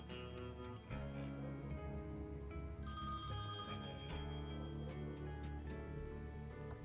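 Ringing payphone in the adventure game Thimbleweed Park, an electronic bell trilling in repeated bursts over a layered synth music bed, clear and close.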